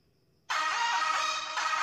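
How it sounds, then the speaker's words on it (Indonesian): Ringtone of a Ti.Phone T90 mobile phone begins after half a second of silence, then plays loud and continuous with a dense, bright electronic tone to the end. "Kayaknya buat nada ring sendiri di HP Tipon T90 ini banyak yang baru nih"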